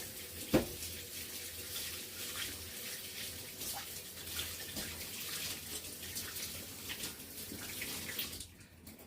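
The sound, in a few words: tap water running while washing hands at a sink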